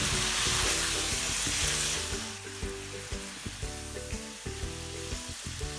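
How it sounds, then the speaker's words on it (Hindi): Sandwich filling frying in a pan, a close, loud hissing sizzle that eases slightly midway, punctuated by regular scraping stirs. "3 मिनट हो गए मुझे पकाते हुए, इसको फ्राई करते हुए।"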